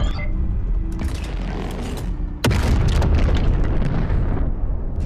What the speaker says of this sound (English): And then you can fire the shot.